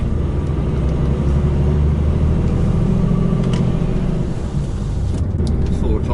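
A four-wheel-drive vehicle with its diff lock engaged pulls off dirt onto tarmac, its engine and road noise a steady, loud drone throughout, with no voices.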